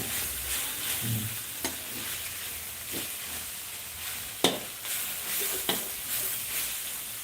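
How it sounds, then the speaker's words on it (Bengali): Cabbage frying in a pan, a steady hissing sizzle broken by a few sharp spatula scrapes and knocks, close and moderately loud. "বাঁধাকপিটা ভাজা হয়ে গেছে"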